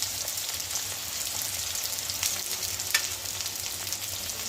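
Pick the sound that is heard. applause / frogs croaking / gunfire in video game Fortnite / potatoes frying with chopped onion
potatoes frying with chopped onion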